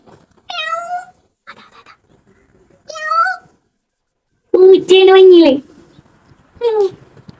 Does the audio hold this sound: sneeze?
no